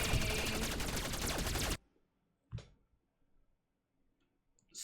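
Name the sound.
gunfire from asteroid defense system, from a video game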